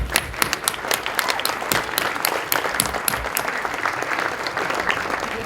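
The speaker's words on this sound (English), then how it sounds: "So let's give a big round of applause to you," Conference members receive applause at the NESEA BuildingEnergy14 keynote, a large hall full of steady clapping with distinct individual claps popping out near the front, sustained and moderately loud.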